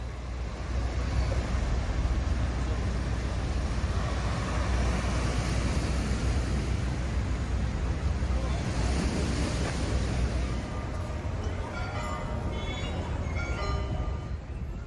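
Waves wash continuously against the rocky seafront at Puerto Vallarta, a dense steady roar of surf mixed with gusty wind buffeting the microphone.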